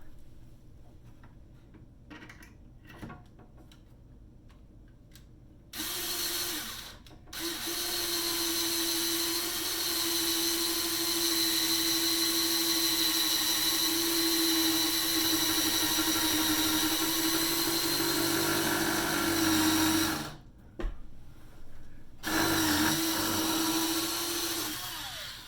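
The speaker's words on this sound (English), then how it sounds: "let the drill do the work, just because the wood can be kind of hard and it just takes a little bit to sort of get through it" A drill bores into hard wood through a Kreg jig, whining steadily and loudly for long stretches with a brief pause near the start and a short stop before a final burst.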